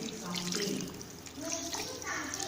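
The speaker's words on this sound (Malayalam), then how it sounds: "1/2 ഗ്ലാസ് വെള്ളം." Half a glass of water poured over tender jackfruit pieces in a cooker for a Kerala-style stir fry, a steady splashing pour that runs throughout with speech over it.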